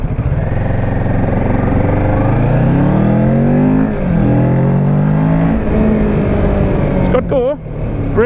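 A 2017 Kawasaki Ninja 650 parallel-twin, sharing the Z650 engine, revs up through several rising gear pulls with brief dips between shifts, loud and close, with a voice talking over it.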